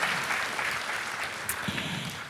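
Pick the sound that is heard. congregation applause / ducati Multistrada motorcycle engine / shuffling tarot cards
congregation applause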